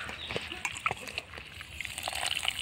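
Chopped home-grown mushrooms being rinsed in water, giving short splashes and sloshes in a bowl, close and fairly soft, with scattered irregular splatters.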